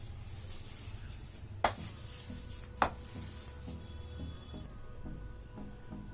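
Rice flour dough with maida and oil is mixed by hand for akki rotti: soft, quiet rubbing and squishing, broken by two sharp knocks and a few light taps near the end.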